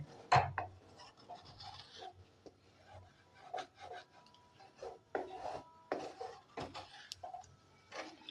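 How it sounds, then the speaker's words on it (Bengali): A spoon scrapes and stirs milk in a pan for milk cake, making quiet, intermittent rubbing and rasping strokes with light taps against the pan, close and without talk. "এবারে অনবরত আমাকে এটাকে নাড়তে হবে, না হলে এই দুধটা নিচের দিকে লেগে যেতে পারে।"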